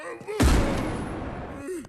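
A single sharp gunshot in a film scene, heard as a minister is shot, followed by a decaying rumble, with brief vocal sounds around it.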